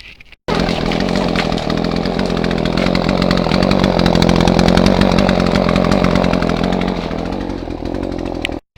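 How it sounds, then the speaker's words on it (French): A chainsaw cuts through the hinge wood of a tree trunk to fell it during a firewood season, starting abruptly and running at a loud, steady high-revving roar for about eight seconds before cutting off, very close, no talking. "Du coup, je vais couper ça."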